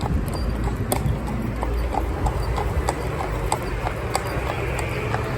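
A cob horse trots steadily, its hooves clip-clopping in an even rhythm over a constant low rumble of heavy machinery nearby.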